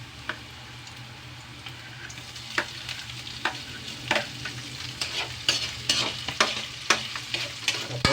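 Ham frying in a pan, a steady sizzle under a low hum, with sharp clicks and scrapes of stirring coming more often as it goes on.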